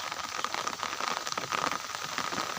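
Rain falling outdoors in a rural area, a dense, steady patter of drops on surfaces, close and continuous with no voices.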